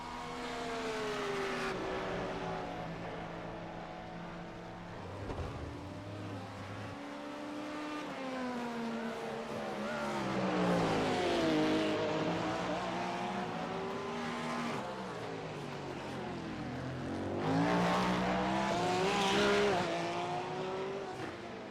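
BMW M4 and other IMSA race cars in iRacing barrel into turn 1 at Long Beach, a dense, loud wall of engines with rising and falling revs and overlapping pitch sweeps as the pack brakes and accelerates.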